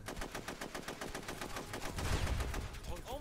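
Rapid gunfire in the SOCOM 2 video game, a fast even stream of close, sharp shots over about three seconds, with a heavier burst near the end.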